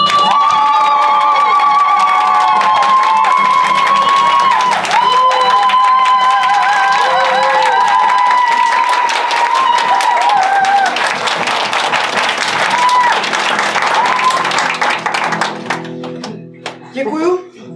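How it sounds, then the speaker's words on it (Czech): Audience at a Czech improv theatre match breaks into loud, sustained applause and cheering as the head referee is welcomed, dense clapping filling the room before thinning out and ending near the close. "Největším potleskem přivítejme hlavní rozhodčí Míšu!"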